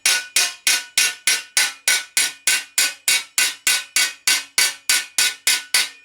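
A hammer strikes steel again and again to dress the triangular edge of a medieval armour thigh plate, giving loud, evenly spaced ringing blows about three per second, each decaying quickly, close up with no talking.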